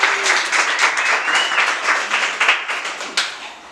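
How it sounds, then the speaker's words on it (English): An audience breaks into a full round of applause, dense clapping sustained throughout with a few sharper claps standing out near the end. "So give yourselves a round of applause."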